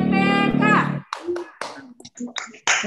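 Children in an online primary-school class chant together, then follow with a rhythmic pattern of clapping in short, scattered bursts, their voices mixed in between the claps.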